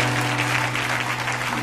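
A church congregation applauds in praise of the Lord, a dense, steady clapping that fills the room throughout, with a low hum underneath and no clear voices.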